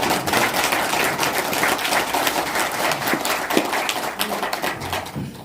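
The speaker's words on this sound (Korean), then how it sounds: "여러분, 우리 이상수 박수 쳐드립니다." A room full of people at a book launch for a sijo poetry collection applauds warmly, with many hands clapping in a dense, steady patter that eases off toward the end.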